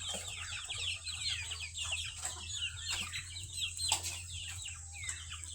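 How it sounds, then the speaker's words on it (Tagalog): Young chicks peep and cluck in a busy, overlapping chorus at close range, with a steady low hum running underneath and no talking. "Makukulit kong mga sisiw."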